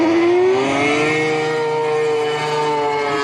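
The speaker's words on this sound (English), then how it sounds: "You can hear him ripping around the bend here into this outer zone 1." A Formula Drift car rips around a bend at Fuji Speedway during qualifying, its engine holding a high, wailing pitch that climbs slightly, heard steady and fairly close with no voices.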